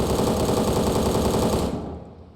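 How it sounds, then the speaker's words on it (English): An EBR MK14 rifle fires fully automatic in a COD Zombies–style video game, a loud rapid burst of shots lasting under two seconds before cutting off into silence. "And we have the EBR MK14. And shoot it. It's fully automatic."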